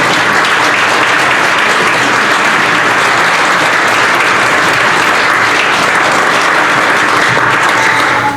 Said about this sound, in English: I think we should give Rose one more round of applause of gratitude